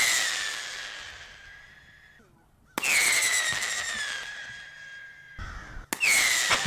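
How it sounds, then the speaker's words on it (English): Pyrotechnics used to scare off crows, with loud whistling, descending shrieks that stop abruptly, followed by sharp bangs and another rising whistle, all fairly close; no clear cawing stands out. "This is audio of what the crows sound like just being crows, and then audio of what they are doing to try and get rid of the crows."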